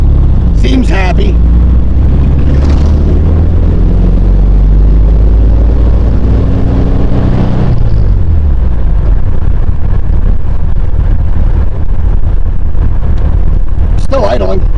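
A 1972 Volkswagen Super Beetle engine idles with a steady, loud, low rumble for about eight seconds, then settles into a quieter, thinner running sound; brief clanks occur at the start and end.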